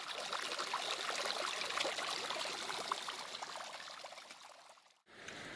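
Water pours and trickles steadily across a fully flooded mountain hiking trail near Zelené pleso, a continuous close rushing flow that fades slightly before a brief cut, then resumes.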